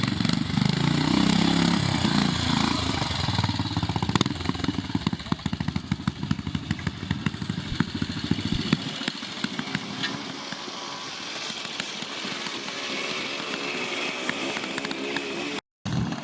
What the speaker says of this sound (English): Another nice sounding bike.